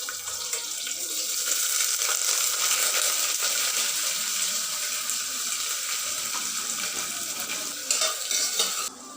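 Sliced onions and whole spices such as cardamom sizzle in hot oil in a pressure cooker for chicken biryani, a loud continuous crackle with occasional stirring scrapes.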